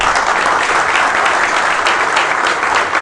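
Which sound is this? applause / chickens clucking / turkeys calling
applause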